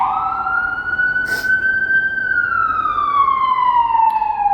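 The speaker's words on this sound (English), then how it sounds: "Siren." A loud, steady siren outside a New York City apartment window wails, its tone rising and then slowly falling, over constant background rumble.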